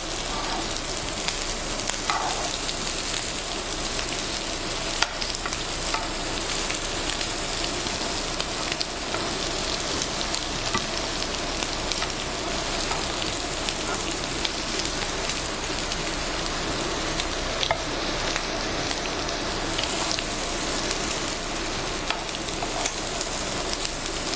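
Shrimp scampi frying in a pan while being pushed around, a steady loud sizzle with a dense crackle that keeps going throughout, broken by a few faint clicks and no talk.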